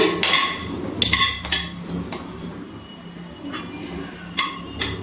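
Whole spices, including dried red chilli, cinnamon, cardamom and cloves, stirred in hot oil in a metal pan, with repeated sharp clanks and scrapes of a spatula against the pan over a faint sizzle.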